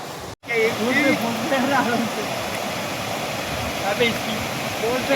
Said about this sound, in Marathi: खूप सुंदर असा पाण्याचा आवाज येतोय